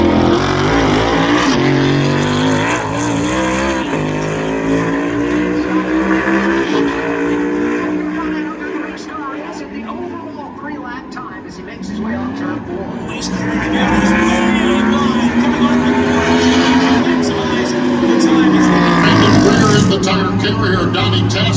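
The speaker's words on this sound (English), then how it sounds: "So Joey Legato will pull back out onto the racetrack to complete the rest of his qualifying effort." A NASCAR car at North Wilkesboro Speedway roars steadily through a qualifying run during a pit crew challenge, loud continuous engine drone with rising and falling pitch, an announcer's voice faintly mixed in.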